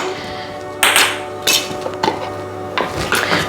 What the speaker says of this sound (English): Just going to give that a little bit of a stir.